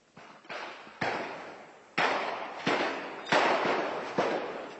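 An ammunition depot in Afrin explodes in a rapid chain of about eight sharp, loud blasts. Each bang is followed by a rolling, decaying tail, and the blasts come in uneven succession.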